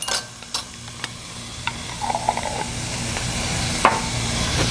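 Diced garlic stirred with a utensil in a pan over an off-grid cooking setup, giving soft scraping strokes and a faint sizzle, close and fairly quiet, with no talking.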